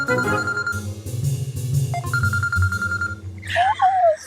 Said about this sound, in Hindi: कॉल आ रही, रुक जाओ।